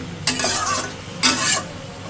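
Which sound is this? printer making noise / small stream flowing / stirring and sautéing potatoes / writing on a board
stirring and sautéing potatoes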